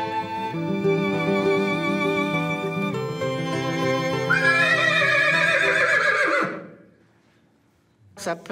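A horse lets out a loud, long whinny close by, its pitch rising and quavering before fading away, in a horse training setting.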